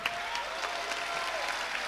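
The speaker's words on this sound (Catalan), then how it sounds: "un aplaudiment també" Brief burst of audience clapping in a hall during a children's cantata, a dense, steady patter of many hands heard from a distance.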